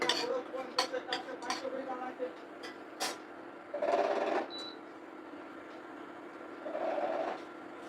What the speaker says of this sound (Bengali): কালো জিরেটা দিয়ে একটু নাড়াচাড়া করে নিয়ে